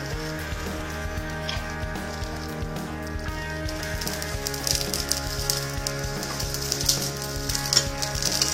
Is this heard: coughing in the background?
no